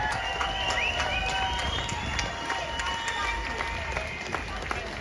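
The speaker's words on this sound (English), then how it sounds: "So give them a round of applause" An audience claps for survivors of abuse at a public gathering, a sustained patter of applause with a tonal hum running beneath it, fairly close and steady throughout.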